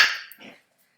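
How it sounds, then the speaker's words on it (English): Small puppies in a Sims 4 household give a short, close yip-like bark, followed by a fainter whimpering burst, then silence. "you can hear the little puppies"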